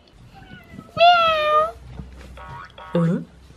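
A cat gives one drawn-out meow lasting most of a second, close and clear, followed by quieter household sounds and a short burst of voice.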